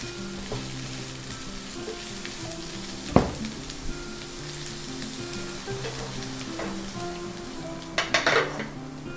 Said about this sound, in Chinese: 接下来将青江菜的水分挤干，放入锅内一起炒香。